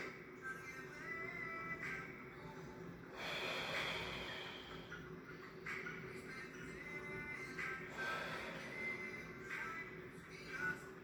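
Rhythmic exercise breathing during a postural gym class, with slow audible inhales and exhales through the nose and mouth repeating every few seconds, close and soft against faint room noise.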